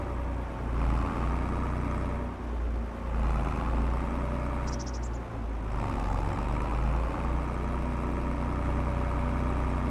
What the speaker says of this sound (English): Tractor sounds normal.